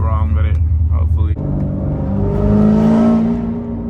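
Manual 800hp Corvette C7 ZR1 engine, a deep rumbling idle that swells into a loud, rising rev with clear harmonic tones before easing off, with talking over the opening.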